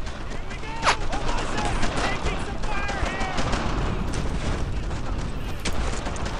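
Squad gunfire in the video game Brothers In Arms: Earned In Blood, with dense crackling shots and bursts running continuously over a steady loud din of battle, joined by a player's voice calling out.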